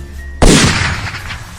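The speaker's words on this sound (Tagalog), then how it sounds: "Isang putok galing sa erga ni Mang Gaston ang umalingaw-ngaw ng mga oras na iyon" A single sharp gunshot cracks loudly and close, with a ringing decaying tail, as a sound effect in a narrated cockfighting story.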